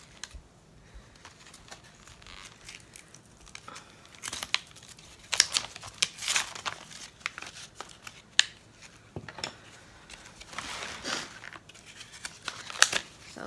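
Cardboard packaging for a paint pen is opened up close, with soft handling rustles and intermittent sharp tearing and crinkling bursts, fairly quiet and with no talking.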